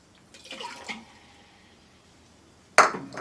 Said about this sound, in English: So we're going to do the 1 cup of sparkling water first.